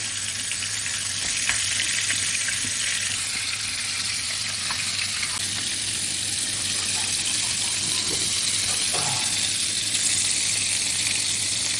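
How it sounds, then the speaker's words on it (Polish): Steady, dense sizzling of pork ribs frying in a hot pan, continuous crackle close by with no pauses. "jak żeberka się smażą"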